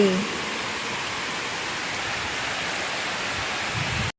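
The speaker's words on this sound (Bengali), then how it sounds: "এই দেখো কি জোরে বৃষ্টি হচ্ছে" Heavy rain pours in a steady, dense hiss that fills the whole clip at an even, fairly loud level, with no voices.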